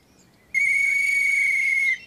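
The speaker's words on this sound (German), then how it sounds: "Oh, ein Vogel." A cartoon bird gives one sustained, bright whistled call that starts suddenly and holds steady for about a second and a half before cutting off, alone over a quiet background.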